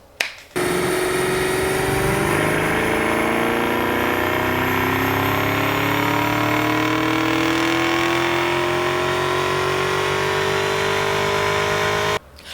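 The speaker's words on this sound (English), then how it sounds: "I absolutely love the rumble that it gives that you expect from a Flowmaster exhaust system" A 2016 Camaro 2SS with a Flowmaster Outlaw axleback exhaust, a loud continuous rumble that rises gradually in pitch as the engine revs up over about twelve seconds, then cuts off.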